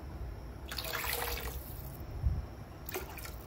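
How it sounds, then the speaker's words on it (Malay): Water is poured into a cooking pot in two short, faint splashing pours separated by a pause, set against quiet kitchen room noise. "Saya letak sedikit lagi air."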